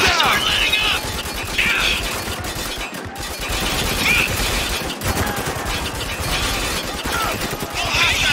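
Gunfire in a firefight from the video game Spec Ops: The Line, dense repeated bursts and rattling shots throughout, mixed with shouting voices and battle noise.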